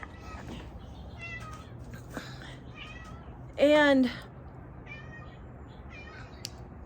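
A cat meows loudly once, a drawn-out, falling cry up close, with quieter mews around it while people talk nearby.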